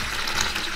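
Water pours steadily into a measuring jug during a classroom capacity lesson, a continuous close splashing rush with no pauses.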